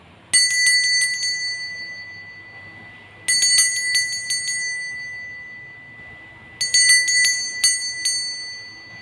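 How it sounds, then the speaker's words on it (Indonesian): A small bright bell rings in three separate bursts of rapid tinkling strikes, each fading out before the next begins, clear and close with no voices. "Kita akan memulai dengan ditandai lonceng berbunyi."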